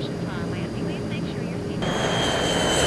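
An airplane flies overhead in the video game Nancy Drew: Danger by Design, a loud, steady engine roar filling the scene while people talk over it.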